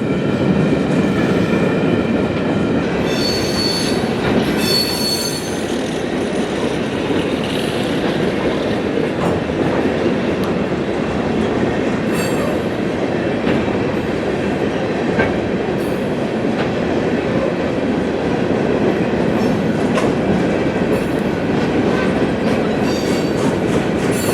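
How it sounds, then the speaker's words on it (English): A freight train hauling Herzog gondola cars rolls past up close near Miami, a loud continuous rumble with rhythmic clickety-clack of wheels over rail joints and occasional metallic squeals. "Now this cut of relatively clean Herzog gondolas is going to be loaded with lime rock for Davenport"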